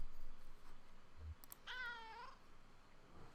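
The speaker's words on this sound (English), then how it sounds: "Surprised meow." A single surprised cat meow from the video game Kentucky Route Zero, a clear rising-and-falling cry lasting under a second, alone over a quiet ambient background with a soft thump just before.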